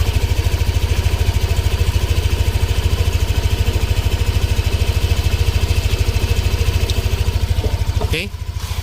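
A Yamaha Aerox V2 scooter engine with an aftermarket pipe idles in a loud, even, rapid putter close by, then drops off abruptly near the end.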